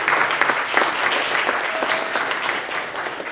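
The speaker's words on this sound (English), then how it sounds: "Give them a round of applause." Church congregation on Father's Day gives a round of applause for the fathers, a full, continuous burst of clapping filling the sanctuary, with a few voices rising from the crowd.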